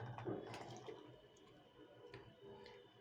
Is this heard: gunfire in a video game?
no